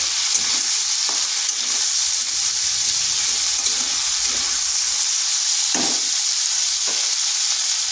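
Pointed gourd (potol) frying in a pan gives a steady, loud hiss and sizzle, broken by a few brief stirring scrapes. No one speaks.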